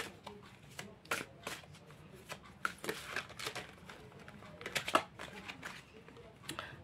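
Oracle cards are shuffled and drawn during a tarot-style reading, producing soft, irregular riffling flicks and papery slaps at close range that come in bursts over several seconds, with no speech.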